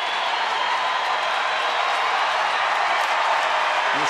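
A baseball stadium crowd of about 36,000 swells into a steady, dense roar of cheering and noise, continuous and fairly loud, with no distinct voices standing out.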